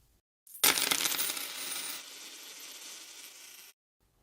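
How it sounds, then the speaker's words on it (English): Coins fall onto the ground in a bright metallic cascade that starts with a sharp impact, then settles into a long rattling jingle before stopping abruptly. "it turned into 10 coins and slipped out of his hand"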